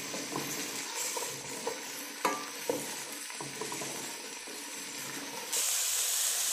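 Carrot soup ingredients stirred in a hot pan, a steady close sizzle with scraping strokes and a few sharper knocks, brightening into a louder hiss near the end, no talk.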